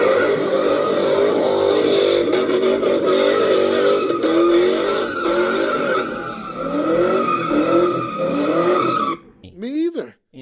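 A car doing donuts sends out a loud, continuous tire squeal over steady engine roar that stays near and dense for about nine seconds, then cuts off abruptly into brief scattered sounds.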